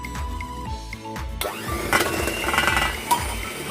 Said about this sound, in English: Beat the butter.